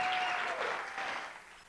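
Audience applause at a real estate conference event, a steady wash of clapping that holds for a moment and then gradually fades, fairly close and moderately loud, with a faint tonal hum running underneath.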